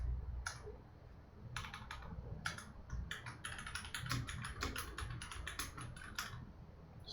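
Computer keyboard typing in a code editor, a steady run of close, crisp key clicks with short pauses over a low background hum, no talking.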